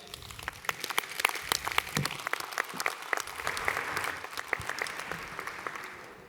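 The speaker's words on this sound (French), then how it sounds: "On peut l'applaudir." Applause from the audience at a union services congress, many distinct hand claps crackling in a fairly dense, moderately loud stream that holds steady across the whole stretch without speech.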